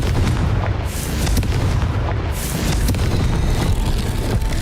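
A Confringo fire spell goes off in Hogwarts Legacy as a loud, sustained booming explosion with a rolling, rumbling blast that fills the whole stretch and has no voice over it.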